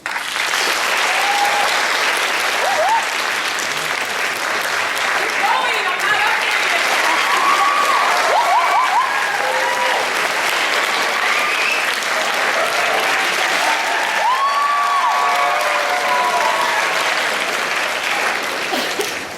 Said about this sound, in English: Help me welcome with a round of applause.